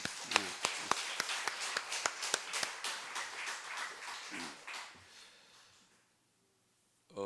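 A church congregation at a Sunday afternoon praise service claps in a steady, fairly quiet round of applause that gradually thins out and fades to silence.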